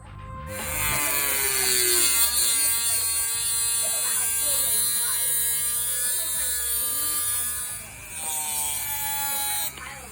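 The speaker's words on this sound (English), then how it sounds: "I enjoy the sound of that grinder." A small electric grinder sands plastic pieces for a scratch-built spaceship model, giving a loud, close, continuous high-pitched whine whose pitch wavers as it bites into the material, with a brief dip before running on.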